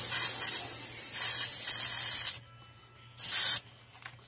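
An airbrush sprays paint in loud, close hissing bursts: one long spray, a brief stop, then a short burst before it cuts out again, with no talk.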